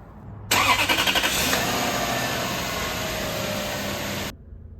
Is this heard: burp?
no